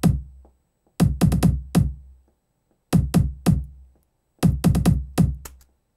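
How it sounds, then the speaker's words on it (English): Kick drum from the Steinberg HALion Sonic instrument playing a programmed pattern of deep, punchy thumps in short repeated groups with gaps between them, clean and loud with no voices. "So the kick sounds like this."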